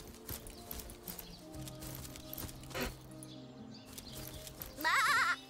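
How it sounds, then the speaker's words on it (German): A sheep bleats in the fantasy role-playing game Divinity: Original Sin, a short wavering cry near the end over soft in-game ambience and quiet background tones. "Da sind noch mehr Schafe."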